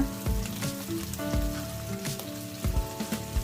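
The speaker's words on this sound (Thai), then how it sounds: "พอหมูสุกเราก็ใส่เทนเมนจังลงไปผัดเลยค่ะ จากนั้นก็ใส่โชยุนะคะ" Pork stir-frying in a pan with tenmenjan and soy sauce gives a steady sizzle, broken by a few sharper scrapes and stirring knocks over a musical background.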